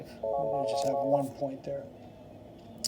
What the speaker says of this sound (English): that's just my phone ringing